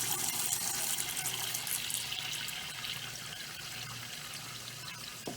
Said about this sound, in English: You fill the pot with the eggs in it with cold water